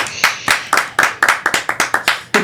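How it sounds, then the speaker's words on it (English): A studio audience on a weekly esports show claps loudly in a rapid, uneven burst, sharp hand claps repeating about every quarter second, close and dominant with no talking over it. "thank you for that rapturous round of applause."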